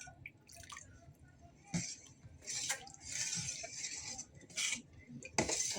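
A spoon clinks and scrapes against a bowl while homemade pani puri filling is mixed, giving irregular light metallic taps and wet stirring sounds, close and fairly quiet.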